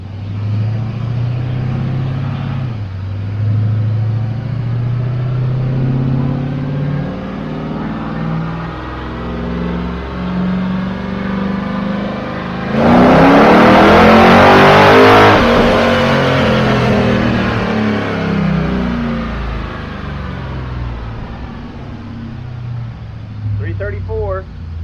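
An LS-swapped Chevrolet C10 truck with a stock LS1 and aftermarket camshaft drones at steady engine speed, then surges into a loud rev midway before settling back, with people talking over the engine.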